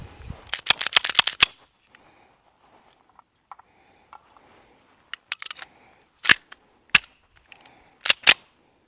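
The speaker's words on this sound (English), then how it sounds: "let's put some rounds downrange." An ATI Moxie FXH45 hybrid 1911 pistol fires sharp, loud cracks outdoors, starting with a rapid string of about seven shots, then after a quiet gap with a few small clicks, spaced single and paired shots.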